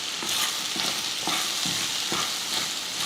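Okra tossed with masala powder sautés in a pan, a soft steady sizzle with a few gentle rhythmic spatula strokes at regular intervals.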